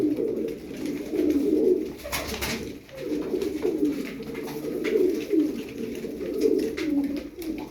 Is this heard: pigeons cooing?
yes